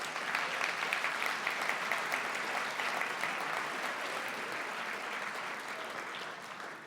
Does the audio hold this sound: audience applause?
yes